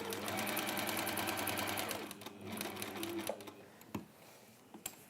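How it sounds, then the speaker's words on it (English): Sewing machine stitching fabric pieces for a hexagon cushion, a steady rapid whirr for about two seconds, then slowing into shorter bursts and stops with a few small clicks and handling noises. "But if in doubt, just sew off the end and then just come on again."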